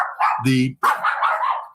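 A dog barks once or twice, close and loud, between stretches of someone talking.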